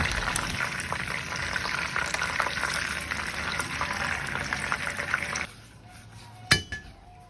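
Food frying in oil, a dense crackling sizzle that runs steadily for about five seconds, then drops away quieter, followed by a sharp metallic clink of a pan or utensil.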